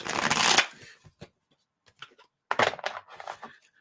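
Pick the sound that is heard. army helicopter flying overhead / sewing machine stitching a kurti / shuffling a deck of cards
shuffling a deck of cards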